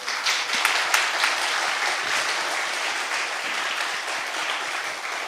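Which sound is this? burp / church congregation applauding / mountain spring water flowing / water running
church congregation applauding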